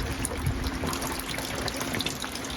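Rainwater trickles and splashes steadily on a sailboat during a river crossing, a continuous close wash of droplets with no talk.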